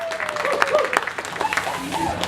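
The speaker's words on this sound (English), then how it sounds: "give a very warm welcome and a very nice Kendal round of applause for Caroline and Fjord" Applause from an audience at the Kendal Mountain Film Festival 2016, uneven clapping and crowd noise mixed with people talking over it, fairly close and moderately loud.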